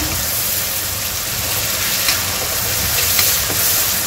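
Tomatoes sizzle and fry in a pan while a drumstick and potato curry is cooked, with a steady close hiss and occasional stirring, without any voice.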